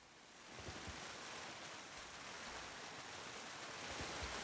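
A waterfall in the survival game Len's Island gives a steady, even rush of falling water that holds alone at low volume for the whole stretch.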